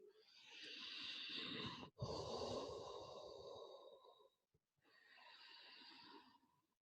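Long, slow breaths during a yoga class, two drawn-out airy exhales with a brief pause between, close and soft, with no talking.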